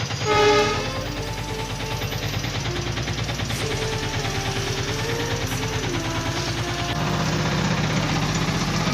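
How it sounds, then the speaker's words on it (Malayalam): A train passes a railway gate near Pathanapuram with a loud, close rumble of engine and wheels. A brief horn blast sounds near the start, and the rumble continues steadily to the end. "ഇപ്പം ട്രെയിൻ പോകുന്ന സൗണ്ടാണ് കേൾക്കുന്നത്."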